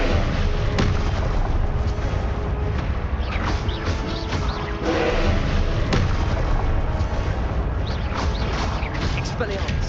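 Spell explosions in Hogwarts Legacy, heard as repeated booming blasts and sharp bangs in a dense, loud, continuous stream of battle noise.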